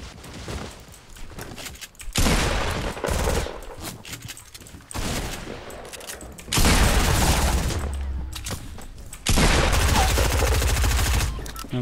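Gunfire in the game Fortnite, three long loud bursts of rapid shooting separated by quieter stretches with faint scattered shots.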